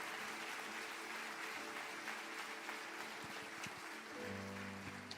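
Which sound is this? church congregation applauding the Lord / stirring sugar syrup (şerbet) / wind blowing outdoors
church congregation applauding the Lord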